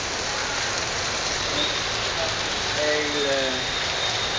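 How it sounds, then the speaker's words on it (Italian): Heavy hail pounds down in Piazza Grazioli in sunshine, a dense steady hiss of ice striking the square that fills the whole stretch, with a brief spoken word and faint passing tones in the background. "c'è il sole, ma grandina, grandina veramente forte."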